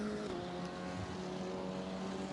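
KTM race car engine roaring steadily at Brands Hatch, a continuous mid-distance drone with sustained tonal whine, no talk over it.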